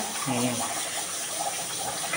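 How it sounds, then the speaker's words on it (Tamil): Water pours into a pot while mutton biryani is cooked Tirunelveli style with seeraga samba rice, a steady close splashing fill running under faint voices. "தண்ணி ஆட் பண்ணணும்."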